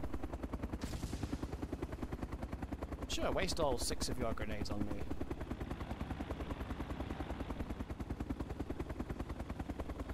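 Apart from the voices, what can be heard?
helicopter in a video game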